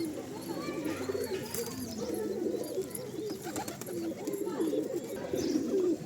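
Several pigeons coo continuously nearby, low throaty warbles overlapping one another, with a few light clicks and rustles.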